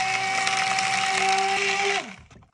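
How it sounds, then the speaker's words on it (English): A blender whirs steadily, mixing coffee soap ingredients with a loud, even motor hum for about two seconds, then winds down and stops. "Give this a quick blend, get everything mixed up"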